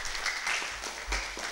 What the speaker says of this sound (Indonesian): Tepuk tangan dulu buat Kang Yanto Aceh.